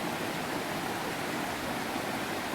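Steady rushing water of North Harper Creek's waterfall and stream beside a trail in Pisgah National Forest, North Carolina, a continuous broadband roar with no breaks or voices.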